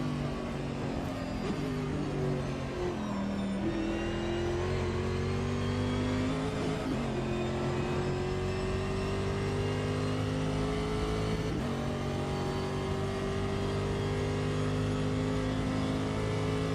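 Classic GT race car engines revving and shifting in Automobilista 2, including a Lamborghini Diablo, droning loudly and continuously with rising pitch sweeps and gear changes, no talking.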